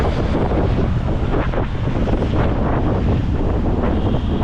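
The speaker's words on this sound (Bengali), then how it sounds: "খুব সুন্দর হাওয়া হচ্ছে, হাওয়া শুনে বুঝতে পারছো, আওয়াজ হচ্ছে হালকা হালকা।" Strong wind buffets the microphone during a bicycle ride near Patuli, Kolkata, in a continuous, loud roar with gusty surges throughout, and no voices.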